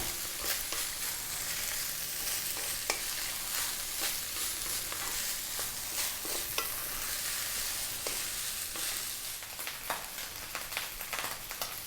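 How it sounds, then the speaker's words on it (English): Steady, dense sizzling of rice frying in a hot pan for egg fried rice, with occasional sharper crackles and pops scattered throughout, close and continuous with no voices. "That's the rice frying there."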